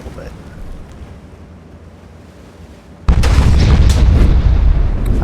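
Naval gunfire and shell hits from the warship game Ultimate Admiral: Dreadnoughts, where a quiet stretch of ambient rumble gives way abruptly to a loud, sustained roar of cannon fire and blasts.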